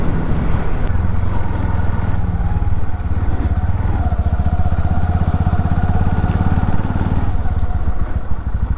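A motorcycle rides along a road in heavy rain near Hamsaladeevi beach, its engine droning steadily and close throughout with a continuous rough rumble and wet road noise, no talk.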